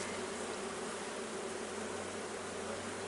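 Honeybees buzz steadily and close during a hive inspection, a dense continuous drone with no talk over it.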